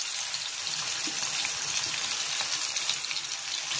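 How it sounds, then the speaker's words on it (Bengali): Salt-marinated hilsa fish pieces and liver frying in a pan, giving a steady, dense hiss of sizzling oil throughout, close up and without voices. "ভাজি হচ্ছে।"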